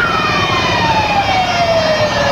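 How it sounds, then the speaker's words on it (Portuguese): A Brazilian Military Police car siren wails steadily with a slowly falling pitch, loud and close, over a constant rumble of traffic during an escort. "Mais um carro de polícia."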